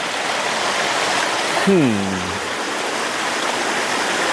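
A shallow creek on a gold-prospecting outing flows with a steady, close rushing wash throughout, and a brief falling tonal whoop cuts in around the middle.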